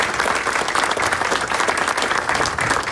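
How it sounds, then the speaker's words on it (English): Steady, dense applause from an audience at a neighborhood breakfast event, honoring culinary students; loud, close and continuous from start to finish with no talk over it. "Give them another round of applause for their deserving."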